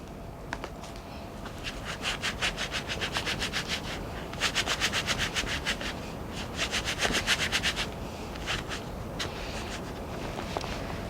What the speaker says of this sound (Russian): мы берем вот такой кусочек, отламываем и вспушаем